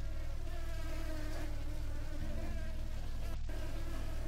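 Flies buzz steadily throughout a Supraland game scene, a continuous droning hum with shifting pitches and no voices, holding at an even level from start to finish.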